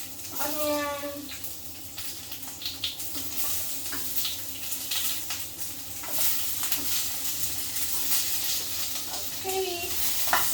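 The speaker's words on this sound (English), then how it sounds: "First thing I'm gonna fry some garlic in there" Garlic and onion frying in a pan for a vegetable and prawn stir fry, a steady broadband sizzle running throughout with occasional clinks and scraping sounds on top.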